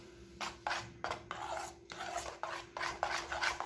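Dosa batter made from leftover rice, ground and then mixed by hand with salt, produces rhythmic wet rasping strokes with short gaps, close and fairly quiet.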